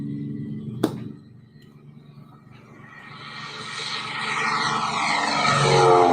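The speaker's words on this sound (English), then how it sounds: "He was able to capture my test flight. So this is a takeoff." A light propeller airplane on a takeoff run, its engine swelling from a low drone into a loud, rising roar that grows nearer and stronger through the final seconds, with a brief sharp knock near the start.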